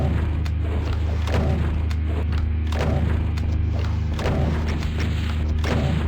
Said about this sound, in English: I'm gonna super shotgun this cyber anyway